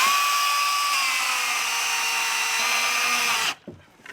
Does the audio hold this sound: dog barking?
no